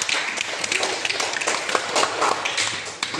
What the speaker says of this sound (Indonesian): Tepuk tangan dulu kan.